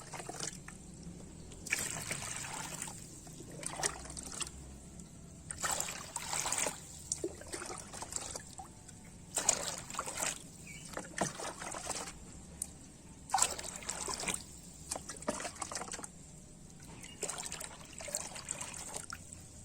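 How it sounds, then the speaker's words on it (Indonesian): Water runs into a tub until it is full, a continuous trickling and splashing stream with bursts of louder pouring, close and fairly quiet, with no talking. "Yuk kita isi bak sampai dia penuh ya."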